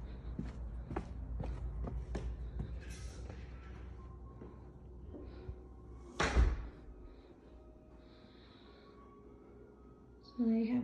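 Footsteps shuffle along before a house's front door swings and shuts with a solid thud near the middle, then a quieter room tone and a further bump at the end; no talking over it.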